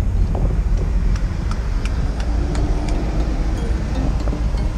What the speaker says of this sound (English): that Porsche